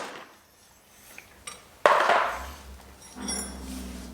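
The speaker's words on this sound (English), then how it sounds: "the first thing we need to do is remove the airbox cover" A plastic airbox cover is popped off a Husqvarna motorcycle in a home garage: a few light taps, then one sharp, loud snap followed by a fading rustle of handling.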